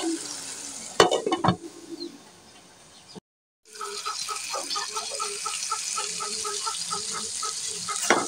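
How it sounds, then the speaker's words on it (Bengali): A spoon stirs and fries a thick spice paste in a pan for a village-style Bengali egg curry, giving a steady soft sizzle with scraping strokes, close and alone, with a brief louder clatter near the start. "তো নেড়ে চেড়ে সবগুলো মশলাকে একসাথে ভালোভাবে কষিয়ে নিচ্ছি।"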